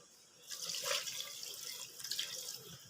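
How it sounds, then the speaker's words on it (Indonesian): A small amount of water poured into pempek dough for a Palembang recipe, a short soft splashing trickle starting after a quiet moment and fading out. "Oke, kalau udah rata seperti ini baru kita kasih airnya sedikit ya"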